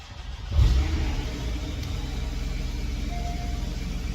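A Porsche 718 Boxster S, just back from crash repair, fires up with a loud surge around half a second in, then settles into a steady, even engine hum that carries on to the end with no voices.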